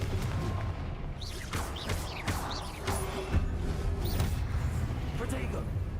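A fire blast spell goes off in Hogwarts Legacy as several booming bursts and crackling hits in steady succession, loud and close over busy combat noise, with a voice talking underneath.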